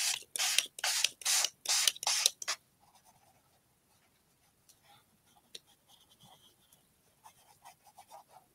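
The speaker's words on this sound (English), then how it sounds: "I am going to spritz this a little bit more." A handheld spray bottle spritzes about seven quick, sharp, close bursts in a fast rhythm, followed by quiet, faint handling sounds.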